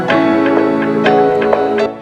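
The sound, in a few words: vocal chops with different delay time and effects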